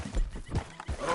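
A horse galloping in the video game Red Dead Redemption 2, heard as a short burst of rapid hoofbeats with snorting breaths, close and moderately loud.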